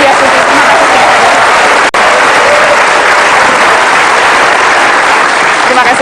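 Loud, dense applause fills a television talk-show studio as the audience claps for a guest minister, a continuous roar of many hands with a brief cut partway through and a faint voice under it.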